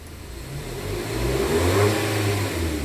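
A Nissan Livina engine revving up from idle, a close mid-pitched roar that swells and holds steady, no talk.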